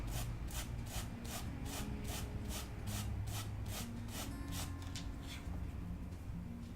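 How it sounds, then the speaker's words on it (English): Sandpaper rubbed briskly back and forth across a model aircraft wing to flatten it: steady, rhythmic rasping strokes, close and fairly loud, about two per second, with no talking. "I'm going to use my sandpaper and just quickly sand that down so it's nice and flat"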